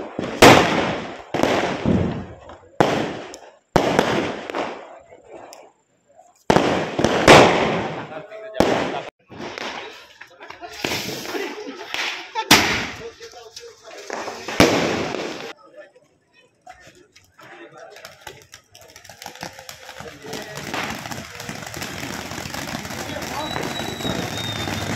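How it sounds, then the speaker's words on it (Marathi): Firecrackers burst outside a village home during Diwali: a rapid run of loud, sharp bangs over the first fifteen seconds, then fainter scattered pops and a steady crackling hiss, with voices talking over them. "बाहेर फटाके फुटून राहिले ना."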